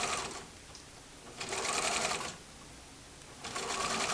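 A home sewing machine runs steady stitches along a folded double gauze edge, in two close, continuous bursts of whirring with a short pause between them and a third starting at the end.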